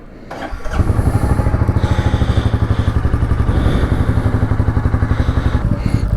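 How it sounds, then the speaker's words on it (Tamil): A motorcycle engine starts and settles into a loud, steady, rhythmic idle thump as it warms up outdoors on a foggy early morning, close to the listener. "வண்டி கொஞ்சம் வார்ம் அப் பண்ணிக்கலாம்."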